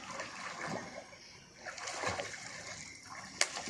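Children swimming in a shallow village canal make faint, intermittent splashes and water sloshing, heard from a distance with a sharper splash near the end.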